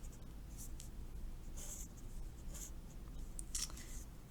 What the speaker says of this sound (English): So I'm going to draw those lines on here.